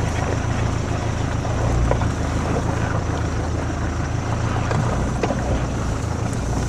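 A 4x4 off-road vehicle climbs a hill on light throttle, giving a steady, low engine rumble under continuous wind and rattling noise for the whole stretch.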